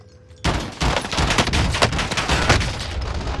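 Rapid bursts of gunfire crackle in the video game Warzone, dense overlapping shots erupting suddenly after a quiet start and continuing in loud, uneven volleys.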